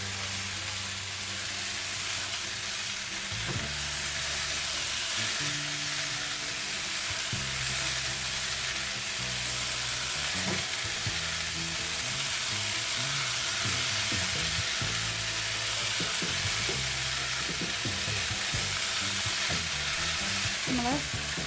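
Broccoli sizzles and crackles in a hot pan, a steady loud frying hiss broken by repeated stirring scrapes and knocks across the whole stretch, with no voices.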